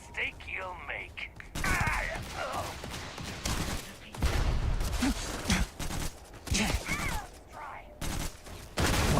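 Grenade blasts and bursts of gunfire in Starfield during a fight in the Mantis lair, heavy thumps and crackling shots recurring through the clip with someone talking between them.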